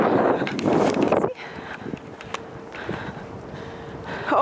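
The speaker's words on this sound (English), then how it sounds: "Oh, it's windy." Gusty wind buffets the microphone while waiting in line outside a concert in Daegu, loud at first and then easing into a steadier rush, with faint outdoor activity underneath.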